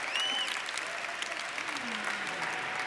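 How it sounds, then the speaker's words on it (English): A conference audience applauds steadily and loudly, with a dense, continuous wash of clapping and a few cheers mixed in, heard alone without speech. "Give her a big round of applause."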